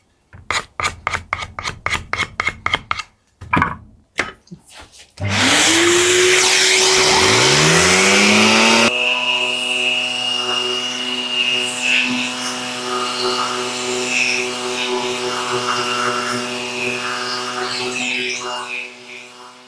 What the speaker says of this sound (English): and then I'll get the sander out